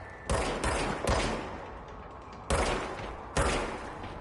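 Gunshots fired at target practice in the third-person shooter video game Control: about five sharp, loud reports in an irregular sequence, each with a short decaying tail, and no talking.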